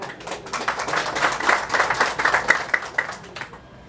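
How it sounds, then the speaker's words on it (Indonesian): Protesters at a Nabire regional council building clap together. The applause rises and falls in uneven bursts for a few seconds, then stops abruptly. "Tepuk tangan."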